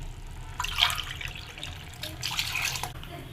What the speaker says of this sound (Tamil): தண்ணி ஊற்றி நல்லா கலக்கி விட்டுக்குங்க